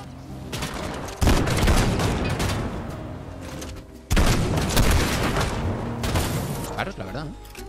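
Bursts of rapid gunfire in the video game Fortnite crackle in repeated volleys with heavy booms, loud and close, while a voice talks over the shooting.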